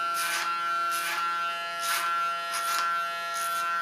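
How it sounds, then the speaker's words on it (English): Electric hair clippers cut over a comb along the side of a short, asymmetrical, side-shaved hairstyle: a close, steady buzz that swells in several regular bursts as each pass bites into the hair. "Do this clipper over comb"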